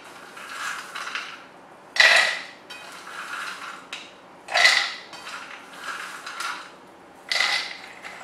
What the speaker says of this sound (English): then I just put the nut inside, maybe till halfway